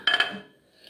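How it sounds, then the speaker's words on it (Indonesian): Plates and cutlery clatter as dishes are picked up and handled, a quick burst of clinks up close that fades within half a second. "Aku ambil piring dulu ya. Kita ambil piring."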